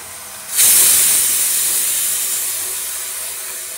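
Sudden loud hiss and sizzle as water hits a hot pan of soybean kofta curry with Kashmiri chilli powder, bursting up sharply then slowly easing into a steady steaming fizz.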